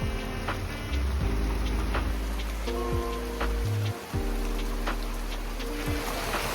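Dense heavy rain hisses steadily close by in Gjirokaster, Albania, layered with low background music and a few sharper drip-like ticks.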